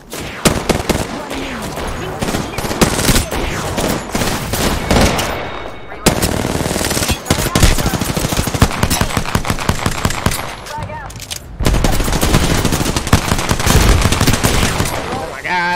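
Rapid automatic gunfire in a shooter video game comes as loud, dense bursts with short lulls between them. Players' voices are faintly mixed in.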